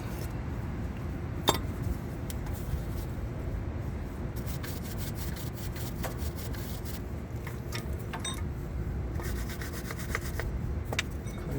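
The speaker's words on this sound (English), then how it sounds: "Sand a little bit. This stuff been caked on here." Steady rasping sanding across caked-on grime on the front brake parts of a 2004 Dodge Dakota 4.7, continuous back-and-forth scrubbing with scattered sharper scrapes, close and fairly loud, no talking.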